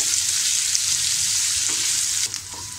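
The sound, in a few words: onion frying in oil, stirred until pink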